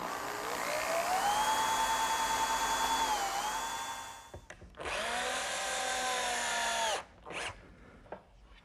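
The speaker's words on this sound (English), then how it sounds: "pre-drill and then attach the leg with drywall screws" A power drill whines at high speed for several seconds, pauses, then spins again in a second long burst driving drywall screws into a wooden leg, ending with a short final blip.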